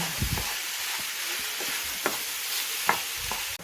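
Mince and vegetables frying in a pan for a bolognese, giving a steady sizzle broken by a few sharp scrapes and knocks of stirring, close and fairly quiet.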